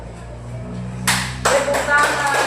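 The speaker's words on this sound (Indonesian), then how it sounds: "Tepuk tangan." A few sharp hand claps begin after a quiet moment during a classroom lesson, striking in quick succession and fairly close, over a low background hum.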